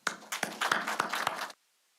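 Warm round of applause from a university conference audience welcoming a guest speaker, a short burst of scattered hand claps lasting about a second and a half before stopping abruptly into silence.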